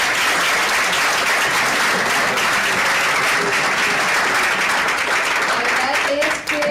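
Sustained, loud applause from a large audience at a digital media and social networks congress, a dense wash of clapping filling the room without a break.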